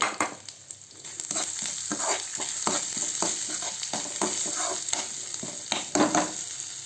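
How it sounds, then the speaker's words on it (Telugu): Tempering spices with asafoetida crackle in hot ghee in a pan over low heat, with a close, busy sizzle punctuated by frequent stirring scrapes and spoon taps. "ఆ పోపు దినుసులు వేసి వేయించాలి"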